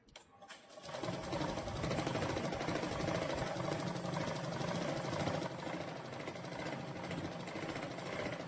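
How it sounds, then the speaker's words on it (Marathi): An electric sewing machine running steadily as it stitches along the edge of a blouse collar, a close, continuous whirring buzz that starts after a brief fumble and carries on without pause. "आता जसा कॉलरचा आकार आहे तसा कडेकडेने मी याला शिवून घेते."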